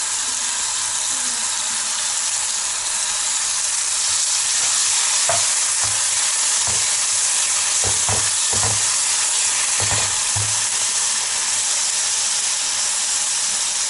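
Red sauce sizzling in a hot pan for a cheese and cream pasta, with a constant loud hiss and steam and several dull thuds and scrapes of stirring in the middle.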